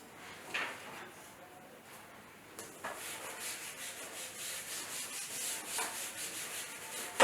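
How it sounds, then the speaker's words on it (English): Board eraser rubbing a diagram off a classroom board, a steady soft scraping swish that builds after a brief pause into continuous brisk strokes, close and moderately loud with no voice. "I'm going to rub this diagram."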